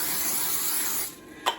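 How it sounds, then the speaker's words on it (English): A short steady hiss of an aerosol cooking spray lasts about a second, followed by a brief quiet pause and a small clatter. "It's actually important to use cooking spray and not oil at this point."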